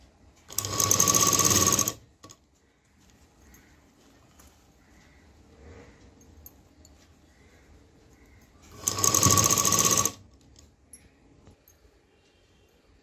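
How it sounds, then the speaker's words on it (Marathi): Sewing machine stitching folded tucks on a blouse, running in two loud bursts of about a second each with a quiet stretch between, close by and with no talking. "हा पण टक्स मी असा फोल्ड करते आणि शिलाई करून घेऊया"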